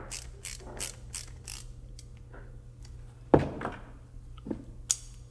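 A set screw is tightened on a Planet Waves solderless RCA cable connector, giving small close mechanical clicks and ratcheting ticks with one sharper snap partway through, quiet and without speech.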